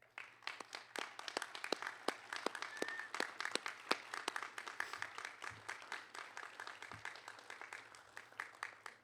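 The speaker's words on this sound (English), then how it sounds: "could the guests please help me recognize them for their efforts in giving them a warm round of applause" A graduation ceremony crowd applauds steadily, many hands clapping in a dense, sustained burst that carries on for several seconds without anyone speaking.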